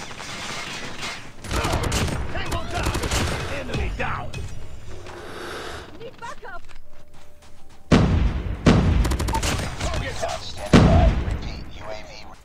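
Gunfire in a first-person shooter game with a Razorback weapon skin, bursts of rapid automatic shots and mechanical clicks, loud and close, with a player's voice speaking over parts of the action.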